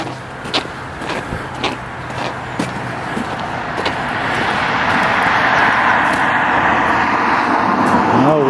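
Traffic passes on a busy main road near a small bridge over the River Dane, with scattered knocks at first and then a steady, rising roar of vehicles.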